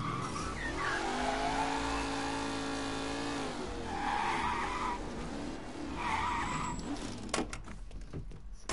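In Mafia 3, a car engine hums steadily while tires squeal in repeated skids through several sharp turns, close and prominent, ending with a few clattering knocks.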